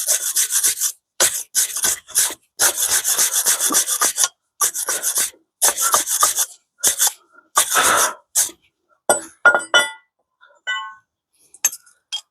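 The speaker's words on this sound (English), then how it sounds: "So now we're gonna give the bracket a little clean." A brush scrubs a car brake caliper bracket on a 2019 Vauxhall Astra in repeated close, harsh rasping strokes with short pauses, followed near the end by a few light metallic clinks.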